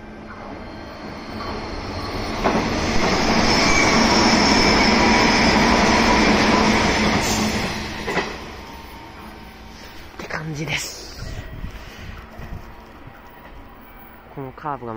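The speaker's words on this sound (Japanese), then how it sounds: "阪神難波線の方から来る普通" A Hanshin local train on the Namba Line rumbles into Daimotsu Station and draws past, its noise swelling then fading, with wheels squealing on the rails and a few clanks as it slows.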